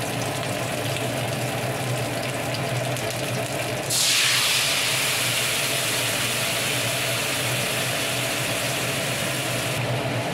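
Tamarind water hits a hot pan holding fried hilsa fish heads with a sudden loud, broad hiss that keeps sizzling steadily after the pour over a low background hum.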